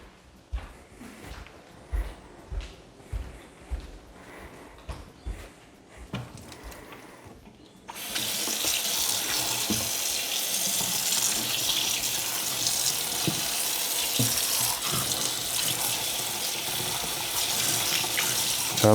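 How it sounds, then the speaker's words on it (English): Water from a sink tap rinsing a part from a Dyson Wash G1 floor cleaner, starting after a few handling knocks, then a steady loud gushing stream splashing into the basin, close up with no speech. "I'll show you how easy that is to clean in the sink."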